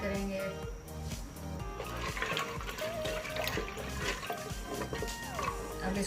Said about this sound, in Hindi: ये 1 गिलास पानी का ऐड करेंगे।